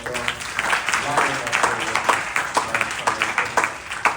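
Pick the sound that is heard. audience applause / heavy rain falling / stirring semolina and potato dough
audience applause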